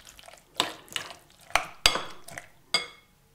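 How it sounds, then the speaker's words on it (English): A spoon clinks and scrapes against a bowl while mince pie filling with apple, orange and orange zest is mixed, giving about six sharp knocks at uneven intervals, close and clear. "Now give it all a good stir to mix thoroughly."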